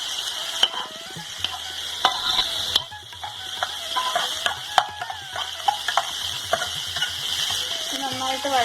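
Onion and cabbage sizzle and crackle in hot oil in a pan while being stirred, with scraping spatula strokes and knocks over a steady frying hiss. A voice speaks now and then.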